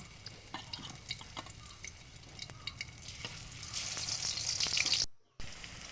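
Young ash gourd pieces frying in hot oil on a stove, a steady soft sizzle with occasional crackles, swelling louder near the end before a brief cut.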